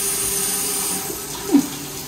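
Water runs from a bathroom faucet in a steady, fairly quiet stream, with a brief louder splash near the end.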